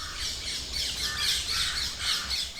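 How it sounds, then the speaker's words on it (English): Pigeon bursting into flight overhead in Ranthambore National Park, India: a short, close, fluttering rush of wingbeats, pulsing in waves with bird-like squawk tones, with no voices. "a pigeon bursts into flight overhead"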